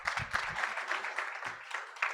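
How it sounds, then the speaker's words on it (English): Audience at a school MLK student recognition event applauding: a short burst of dense, steady clapping from a crowd, moderately distant, for about two seconds. "How about a round of applause for Karen?"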